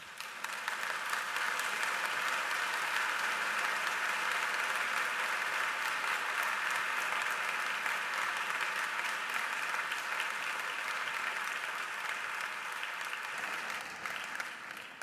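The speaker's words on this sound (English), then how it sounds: "Let's give them another round of applause and for who they represent." A large audience at a 2013 medical college commencement ceremony claps continuously for about fifteen seconds, a dense, even roar of applause that barely fades.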